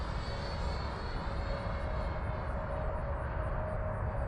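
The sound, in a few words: RC jet plane flying at half throttle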